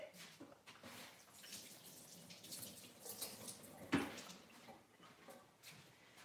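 Tap water runs into a pot as rice is rinsed and swirled, with soft splashing, a sharp clunk near the middle, and quiet indoor kitchen ambience.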